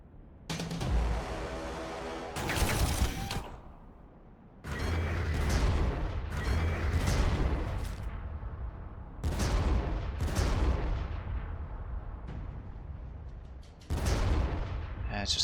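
Gunfire poured into an enemy position in the Warhammer 40000 Armageddon video game, repeated heavy booming volleys in separate bursts, some mechanical clatter between them and no talking.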